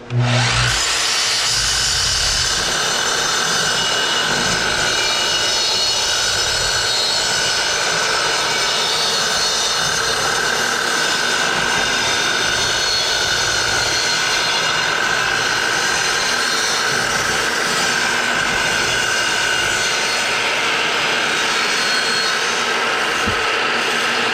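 A power saw cuts thick salvaged barnwood boards in a long, loud, steady roar with a high whine, sustained for over twenty seconds with no talk.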